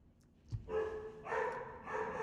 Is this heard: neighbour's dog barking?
yes